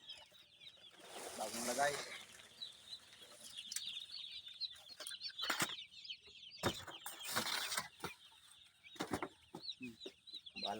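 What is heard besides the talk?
chicks put into a newly built cage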